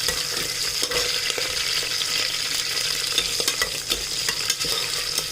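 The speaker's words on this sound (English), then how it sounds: "We'll fry them and remove them from fire once they are fried." Green chilies and cashews frying in hot oil, a loud, steady crackling sizzle with frequent scraping stirs of a utensil, close by and free of talk.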